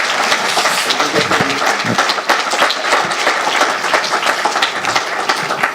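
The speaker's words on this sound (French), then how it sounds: "je crois qu'on peut vous applaudir." An audience at an intergenerational conference breaks into sustained applause, dense and loud clapping from a full room that carries on steadily throughout with no talking.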